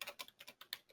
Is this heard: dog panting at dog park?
no